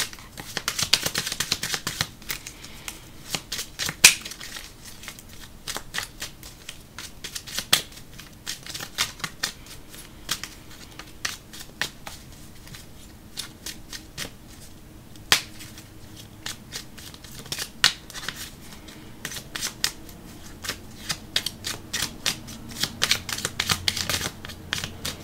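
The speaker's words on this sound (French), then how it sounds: "On va tirer ici 3 cartes de cet oracle." Oracle cards shuffled by hand at close range in a steady run of soft papery riffles and taps that lasts the whole stretch, no talk.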